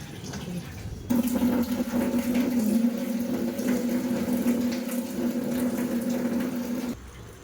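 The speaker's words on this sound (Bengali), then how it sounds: "এই সব গাছে এখন জল দেবো" Water poured onto potted garden plants, including tomatoes, with a steady close splashing and trickling stream with a low, hollow resonant tone that starts abruptly, runs evenly for about six seconds, then stops.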